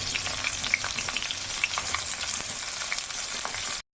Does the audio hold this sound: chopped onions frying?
yes